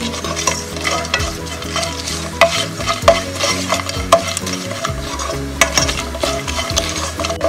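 Biryani masala sautéing in ghee, stirred continuously with a spoon that scrapes and knocks the pan in a steady, close rhythm over a loud sizzle, no voices.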